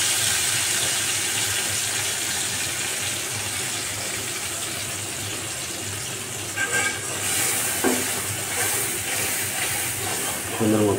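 Ground spices fry with a little water and a green chili in a pan for a Bengali milk-chhana curry, giving a steady close sizzle and hiss throughout, with occasional stirring scrapes near the end.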